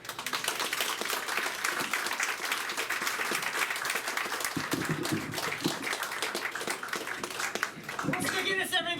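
Audience applause at a gathering, steady and moderately loud, with a voice and some tapping coming through near the end.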